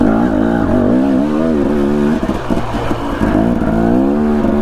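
A loud off-road vehicle engine revs hard and close on a rocky mountain trail, the pitch rising and wavering as the rear wheel spins on rocks, with a brief dip in the middle before the throttle picks up again.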